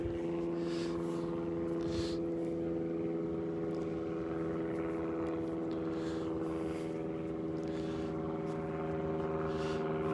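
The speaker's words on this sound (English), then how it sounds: "Noisy old airplane flying overhead." Steady droning engine hum of an airplane passing overhead at a beach, a continuous low rumble with tonal whine, moderately loud and unbroken for the whole stretch.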